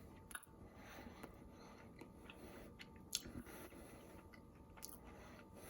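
Quiet, close chewing of homemade spiced biltong, dried raw meat heavy with pepper, with soft irregular bites and small crunches over several seconds and no talking.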